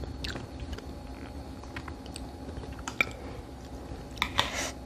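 Soft, close chewing and biting while eating hot delivered cheese-topped tteokbokki with braised spicy chicken, quiet wet mouth sounds with a few sharper clicks of cutlery or dishes, no talking.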